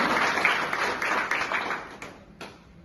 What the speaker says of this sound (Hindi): एक बार महिला चिकित्सक वर्ग के सम्मान में जोरदार ताली बजाएं